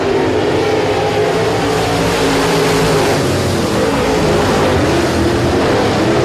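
At Sabine Speedway, a pack of race cars roars off at the start of a heat race, their engines forming a loud, dense, continuous wall of revving sound that holds for several seconds.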